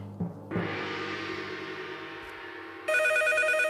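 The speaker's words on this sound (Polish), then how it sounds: "Mamy telefon." A phone rings once with a sustained electronic tone, then a brighter, higher-pitched ring cuts in near the end, fairly loud and close.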